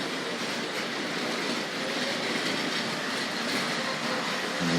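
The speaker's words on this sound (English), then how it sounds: "Nice gentle rattle from the wagons." A Tri-ang RS11 model railway yard switcher pulls wagons that rattle steadily along the track, a close, continuous clickety-clack with faint wheel squeal throughout.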